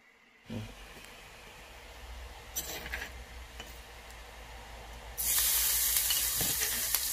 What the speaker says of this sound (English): We gonna fry this with a lot of oil